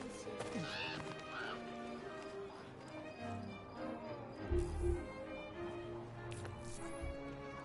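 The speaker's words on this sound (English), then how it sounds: "Nice horse." A horse neighs in Assassin's Creed Syndicate, in the rough streets of the Devil's Acre in Victorian London, over a busy mix of game ambience and faint speech, with a louder low burst near the middle.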